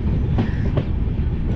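Vistadome tourist train pulling out of Hasimara station, with steady close clickety-clack of wheels over rail joints and a continuous rolling rumble, no voices.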